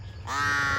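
A single loud, close crow caw, harsh and sustained, rising abruptly after a brief moment of low background noise, while cattle are herded.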